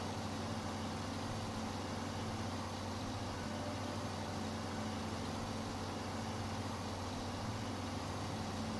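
A Kenworth T880 truck engine idles in SnowRunner, a steady low, even rumble with constant hum that holds unchanged throughout, fairly quiet and alone without talk.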